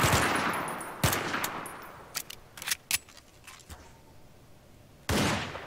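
Gunfire from a weapon in Garry's Mod Nextbot gameplay, sharp close shots in irregular bursts with single cracks and quick doubles spread over several seconds, decaying between shots.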